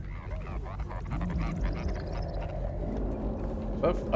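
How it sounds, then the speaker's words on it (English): South of Midnight game creature gives off a mechanical, frog-like croaking and warbling, repeated squawks over a low rumbling backdrop, with someone talking throughout. "Is that like supposed to be a frog? Weird frog noise. That's like all mechanical."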